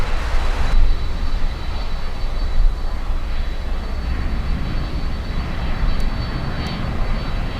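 Aeromexico jet taking off at Miami International Airport, a loud continuous engine roar heard from a distance, steady and broadband throughout.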